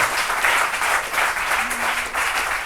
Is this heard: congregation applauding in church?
yes